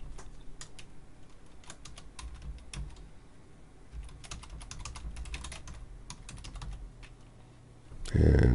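Rapid typing on a computer keyboard while entering text for a web page header, a steady close patter of light key clicks that keeps going without pause, with a heavier clack at the end.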